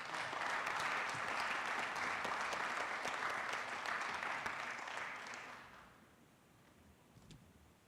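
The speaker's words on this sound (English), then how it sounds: "All right, let's give them another round of applause." Dense applause fills a city council chamber for a group of young people, holding steady for about five seconds before fading out into quiet room noise.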